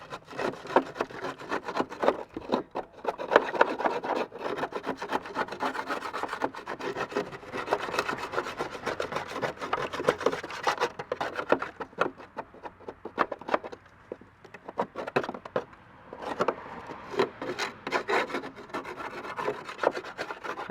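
A scraper rasps caked grass debris from under a Honda lawn mower deck, continuous close scratchy scraping strokes in an uneven rhythm with brief pauses.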